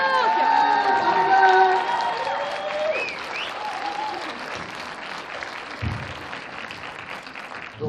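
Audience at a film premiere applauding, a dense round of clapping that peaks early and gradually thins, mixed with crowd voices and some cheering while the applause continues.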